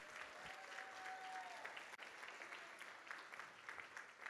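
Sustained applause from a luncheon audience at a National Philanthropy Day event, a continuous crowd clapping that sounds soft and somewhat distant, with a brief tonal whine near the start.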